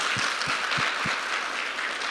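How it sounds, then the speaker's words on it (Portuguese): Audience at a live talk in Alphaville applauding, a broad steady wash of many hands clapping throughout, fairly distant and even in level, with a few low thumps near the start. "a salva de palmas para vocês."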